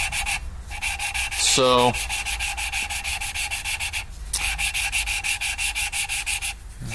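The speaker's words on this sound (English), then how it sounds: "zen in the art of valve lapping" Subaru engine valves are lapped by hand with a suction cup tool, giving a close, steady, rhythmic back-and-forth grinding rub that repeats throughout.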